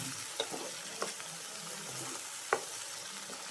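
Soft low sizzle of masala paste for chicken roast frying, with a few scraping knocks from a spoon stirring the pan at irregular moments.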